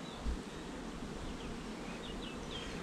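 Soft, continuous buzzing of many honeybees around an open hive while queens in cages are introduced, fairly quiet and close, with no talking.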